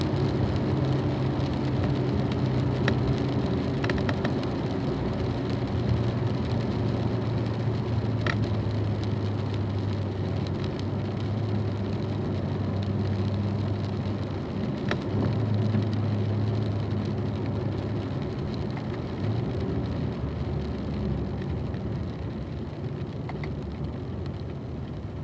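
A car drives a race course in the rain, its engine droning steadily under a constant wash of spray and road noise, with occasional faint ticks and clicks.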